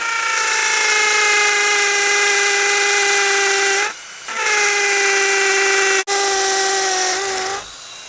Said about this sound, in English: So just drilling a pilot hole for the wood.